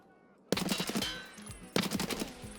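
Two close bursts of automatic gunfire in an Escape from Tarkov shootout, each a rapid rattling string of shots, loud and sharp, separated by a short gap with an echoing tail.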